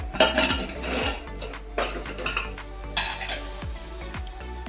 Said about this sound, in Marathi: आपण सुरीने मोकळा करून घेऊ कडाने.